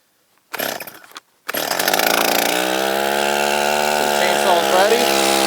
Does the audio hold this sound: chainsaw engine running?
yes